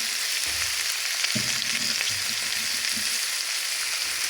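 Green beans cooking in a pan alongside liver steaks give a steady broadband sizzle that runs throughout, with occasional low clatters of stirring or shifting food in the pan, no talking.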